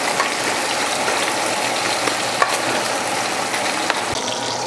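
Pieces of beef tongue sizzle and crackle steadily in a hot pot, a dense, even frying hiss with small pops and scraping stirs throughout.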